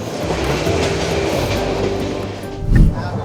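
A Cox's Bazar Express train rolls steadily along its rails, a continuous loud rumble heard from inside the carriage, with a brief heavier clunk near the end.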